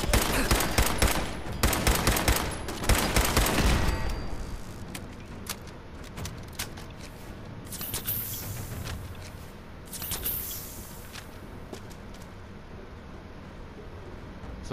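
Fallout 4 gunfire inside the Corvega assembly plant: a loud, rapid burst of automatic shots up front, then scattered single shots and distant crackling over a hissing background.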